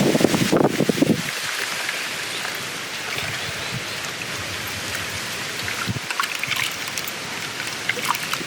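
Water poured over flattened rice (poha) in a bowl for a no-cook curd rice: a brief splashy burst, then a steady soft trickle running on alone.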